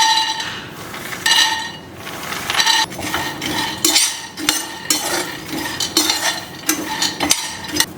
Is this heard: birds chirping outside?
no